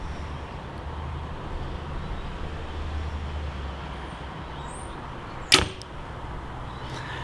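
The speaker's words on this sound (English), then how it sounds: "There's a fair bit of twang with the bow" Compound bow, a Win and Win Atom X, releasing a shot with a single sharp twang and thump, close and brief, over a steady outdoor background hum.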